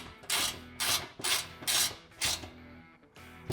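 An Allen wrench tightening a bolt on a 2007–2014 FJ Cruiser panel mount, giving a series of about six rhythmic metallic ratcheting turns, close and distinct.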